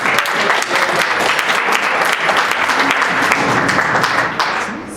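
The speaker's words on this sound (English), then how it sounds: "So a round of applause for you guys." A conference crowd at a Unity 5 talk breaks into loud, dense applause, a continuous wash of clapping that holds steady for five seconds before easing slightly at the end.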